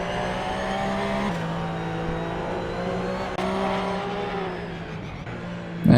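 Porsche 911 race cars circling Virginia International Raceway in a racing video game, a steady loud engine drone with layered exhausts held throughout, faint tyre scrub during oversteer and a sharp blip at the end.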